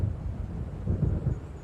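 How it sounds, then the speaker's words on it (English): Low, rolling thunder from an approaching storm in the video game Alan Wake, a distant rumble that swells slightly toward the end, heard alone without any voices. "It seems there's a storm coming."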